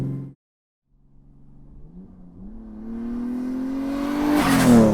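An RB25-swapped Nissan 200SX, a rear-wheel-drive car, revs hard after a brief pause. The engine note climbs steadily in pitch and loudness to a loud, close peak near the end, with no talking.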